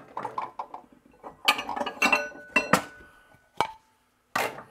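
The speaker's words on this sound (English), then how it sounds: "So I'm going to dump them in this bowl right here." Hickory King dried corn kernels dumped into a bowl, a series of close rattling clatters and hard clinks in uneven bursts, ending with a couple of sharp isolated pings.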